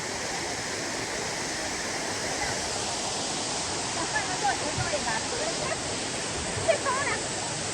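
A waterfall in Yangzhou city rushes in a steady, even wash of noise, with faint voices and small sounds surfacing briefly near the end.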